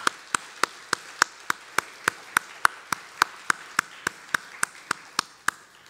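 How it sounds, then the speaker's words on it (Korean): Steady single-handed clapping at a Sunday church service honouring fathers: about twenty crisp, evenly spaced claps, close and distinct, with no talking over them. "우리 박수 한번 아버지를 위해서 쳐드리도록 하겠습니다"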